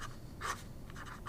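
A steel-nibbed fountain pen, likely fitted with a Schmidt nib and filled with brown ink, scratches across paper in a few short, quiet strokes with brief pauses between them.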